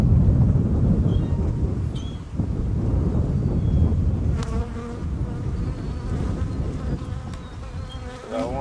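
Honey bees buzz in a hive, a dense, loud, close drone that holds steady throughout, with a few individual bees whining past nearer the microphone.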